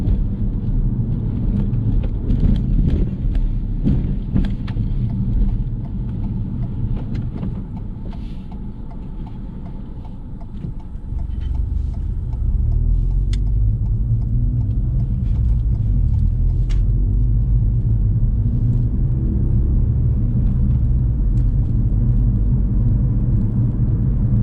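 Steady interior rumble of a car cruising on a UK road during an extended driving test, with a low engine drone and road noise that briefly dips, then swells again and holds.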